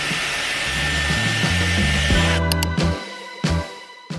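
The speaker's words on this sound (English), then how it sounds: "Then immediately going in with the Dyson to curl my ends." Dyson hair styler blowing steadily while curling hair ends, a close, continuous airflow whir that shifts pitch slightly before switching off, followed by a few brief clicks and handling knocks.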